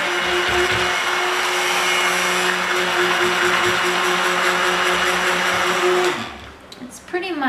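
A stick blender whirs loudly and steadily through cold process soap batter, then winds down and stops near the end.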